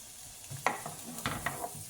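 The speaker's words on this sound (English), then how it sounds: "I'm just going to be stirring that up. Just get it a little bit going." Food cooking in a pan is stirred, giving a few soft, close scrapes over a faint sizzle.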